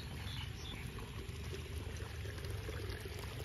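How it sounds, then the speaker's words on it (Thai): Water flows steadily on a rural garden farm in the evening after rain. A faint, continuous broadband rush holds at an even level with no breaks and no voices. "ๆเสียงน้ำไหลจ้ะ"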